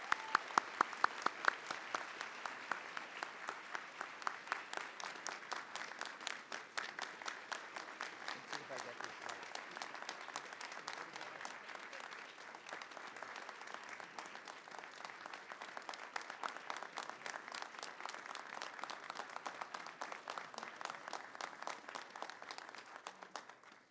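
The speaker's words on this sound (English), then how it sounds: "Again, let's provide applause for Mark once more, please." Sustained audience applause at a SUNY College at Old Westbury convocation honoring Mark Weiss with the President's Medal for Scholarship, a dense, steady wash of many hands clapping for over twenty seconds with a faint voice early on.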